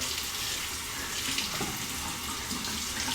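A tap runs continuously into a sink during a razor shave, with steady, close water rushing and splashing as the stubble gets rinsed away.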